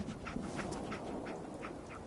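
A dog in a video game pants quickly and evenly, with soft whimpers mixed into the rhythmic breathing, close and steady the whole way through.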